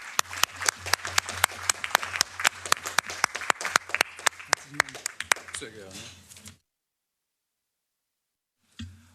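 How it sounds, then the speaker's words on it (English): Seminar audience applauding presenters at a session on PFAS pesticides: dense rapid clapping for about six seconds, then silence, with a brief sound near the end. "And a big applause to our presenters of the first part."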